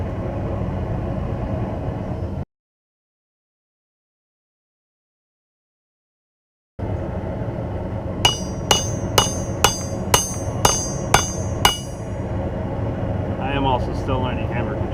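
Blacksmith's hammer forging hot steel while making bolt tongs, eight loud, evenly spaced ringing strikes in a quick rhythm over a constant background hum, following a stretch of dead silence.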